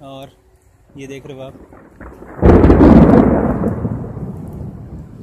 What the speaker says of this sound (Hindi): थंडरस्टॉर्म की आवाज़ आ रही है।